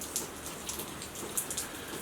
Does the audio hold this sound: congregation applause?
no